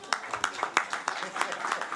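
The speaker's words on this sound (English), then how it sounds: "can we clap hands for the president of FIFA, please?" Press conference audience clapping for the FIFA president, a modest, uneven round of individual hand claps, fairly close and irregular in rhythm.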